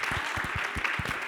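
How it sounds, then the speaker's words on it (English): Short burst of audience clapping for a city mayor at a panel discussion, a steady patter of hands at moderate level. "Give our mayor a round of applause"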